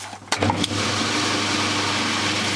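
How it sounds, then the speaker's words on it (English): A vintage washing machine motor engages its spin cycle with a couple of sharp mechanical clunks from the clutch and belt, then settles into a loud steady whirring hum up close. "it's just about to go on its spin cycle now, so we should see this motor move in one direction and engage the other belt"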